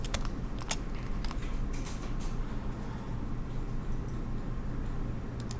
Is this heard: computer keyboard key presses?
yes